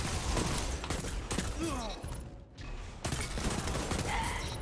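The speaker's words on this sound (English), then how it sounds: "See how fast this hand cannon is shooting?" A hand cannon fires rapidly in the video game Destiny 2, with dense repeated shots and mechanical game effects in a continuous loud barrage.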